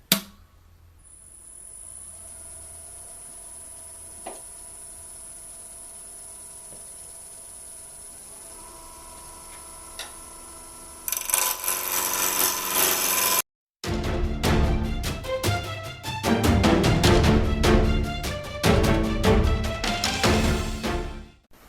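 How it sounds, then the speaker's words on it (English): A wood lathe powers up and spins a rough wooden apple blank on a chuck. It starts with a steady motor hum, then loud broadband cutting noise from carbide turning tools, pausing briefly before resuming rough, dense shaving. "We should turn on the power to the lathe first here."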